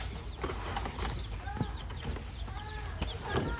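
Baby chicks just brought home from a farm supply store chirp in a steady stream of high peeps, close and continuous, with quiet clattering handling sounds beneath.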